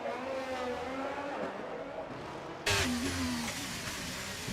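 A Ferrari Formula 1 car races in a simulated Miami round of the USA season, its high engine note holding steady and then jumping louder and sharper as it accelerates close by.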